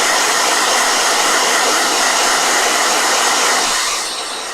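A blow dryer runs at close range, a loud steady airy rush that holds constant before dropping off near the end as it switches off.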